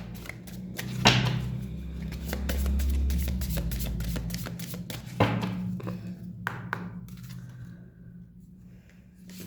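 Tarot cards shuffled and handled close by, with repeated crisp riffles and sharp taps, two stronger slaps of cards, and a soft rustling stretch in between, no talking.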